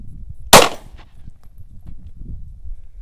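A single loud, sharp Glock 22 pistol shot cracks once, close by, then quiet outdoor background follows with no speech.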